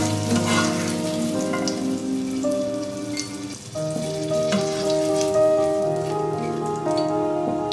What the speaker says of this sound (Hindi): ये मेवे इसमें 1 से 2 मिनट अच्छी तरह से फ्राई कर लेंगे।